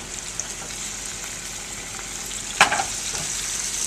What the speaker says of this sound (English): We're going to add a bit more oil to make sure that that gets fried, grilled, and boiled well